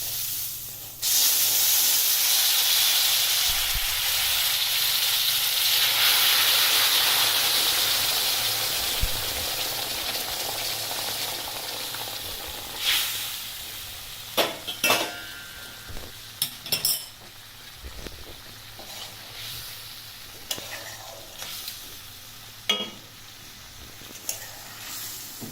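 Warm water hits roasting flour for sheera with a loud, sudden sizzling hiss that slowly fades, followed by stirring scrapes and clatters of a spoon in the pan.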